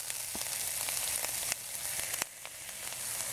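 Ginger and then garlic sizzle in about a tablespoon of hot oil for a pork, mushroom and chili dish, a steady close frying hiss with a few sharp utensil clicks and small bursts through it.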